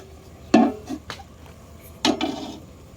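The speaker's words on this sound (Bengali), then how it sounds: "এবারে সবজিটাকে একটা পাত্রের সাহায্যে ঢেকে নেব।" A metal pot set down over vegetables in a village kitchen while cooking Bengali rui fish kalia gives two sharp, close clanks about a second and a half apart, each with a brief metallic rattle.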